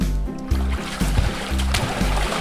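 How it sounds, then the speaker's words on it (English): Water splashes in a children's nursery song: rhythmic splashing bursts repeat about twice a second over a steady musical backing, with no spoken words. "One splash, two splashes, three splashes, four splashes,"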